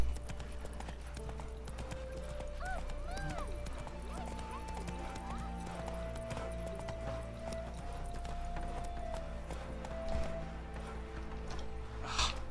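Hooves of the horse Roach clip-clopping at a steady run in The Witcher 3, a continuous rhythmic patter over game music, with a brief whinny-like burst near the end.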